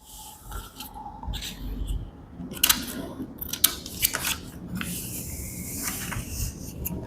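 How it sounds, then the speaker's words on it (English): Scissors snip and glide through paper, cutting out shapes for a children's math activity booklet, with a series of close crisp cuts and rustles at an irregular pace. "Guide the scissors through the paper."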